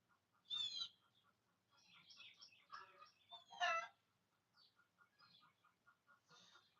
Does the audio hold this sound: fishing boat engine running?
no